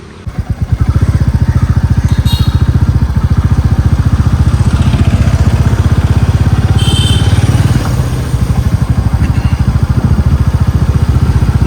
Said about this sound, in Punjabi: ਆਪਾਂ ਪਾ ਲਿਆ ਫੇਰ ਆਪਣਾ ਮੋਟਰਸਾਈਕਲ ਸੜਕ ਦੇ ਉੱਤੇ